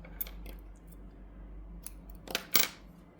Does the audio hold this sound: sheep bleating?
no